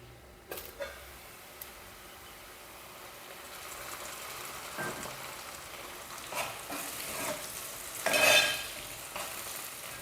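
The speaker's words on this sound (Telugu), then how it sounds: "ఒక 2 నిమిషాలు మనం మూత పెట్టుకొని ఈ ఉల్లిపాయలు మనం మగ్గించుకుందాం." Onions frying in a covered pan for mutton kheema, a soft continuous sizzle with occasional clinks and a brief louder burst near the end.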